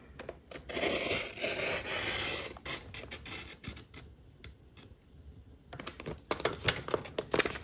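A paper trimmer blade slides across cardstock to cut a card front to size, giving a steady scratchy rasp for a few seconds. A brief pause follows, then a burst of clicking and scraping, close and moderately loud.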